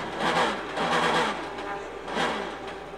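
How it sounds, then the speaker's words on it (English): Core Autosport Porsche race car in the 2013 American Le Mans Series race at Circuit of the Americas, accelerating out of a corner after losing drive, giving a loud, rough, wavering engine roar in uneven surges. "As soon as he got on the power, pretty much coming out of the corner, you can hear the drive has been lost in that car."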